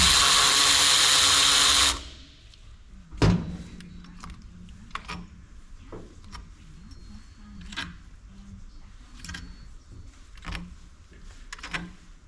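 Power tool work on bolts of an automatic transmission valve body: a loud buzzing burst at the start, then sparse clicks and short metallic taps of parts and tools, with no talk.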